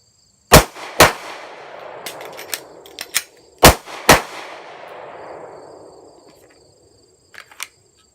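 Live handgun fire during a speed reload: two sharp, loud shots, a pause, a quick cluster of lighter clicks and clacks, then two more shots, each ringing out with a long echo.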